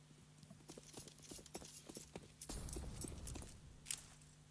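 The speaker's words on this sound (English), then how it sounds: "VIP Mellow, he's hearing the footsteps" Quick footsteps patter in a video game during an amateur esports playoff match, a run of light, crisp taps at moderate distance over low background hum, then a muffled thud-heavy stretch.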